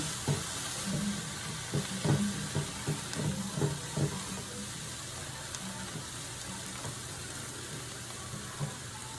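Ground beef cooking down in a pan for a soup mixture, a steady low sizzle with scattered soft stirring scrapes in the first few seconds, fairly quiet and with no talking.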